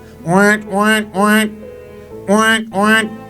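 A man imitates a duck with his voice on a comedy stage, giving five loud, nasal quacking calls in two groups, three then two, close to the listener.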